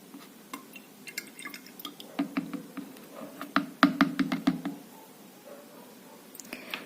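A few milliliters of liquid seaweed fertilizer poured into a measuring cup and mixed: scattered drips and small wet splashes with light glassy clinks, thickest in the middle, close and without talking.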